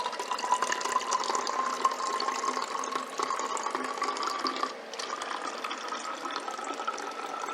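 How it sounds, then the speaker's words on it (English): Liquid pours steadily into a water bottle, a continuous close trickling and filling sound that runs unbroken for several seconds with a brief dip near the end. "we will attempt to pour the precious liquid into the water bottle."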